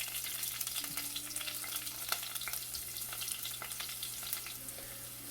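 Chopped shallots fry in oil with dried chili and curry leaves for Kerala rasam, giving a soft, continuous sizzle with light stirring clicks, quiet and close, with no voices.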